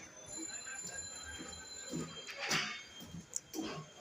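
A freight train carrying cars rumbles past with wheels clattering and rolling over the track, a continuous close rumble with a brief metallic squeal, while someone talks over it.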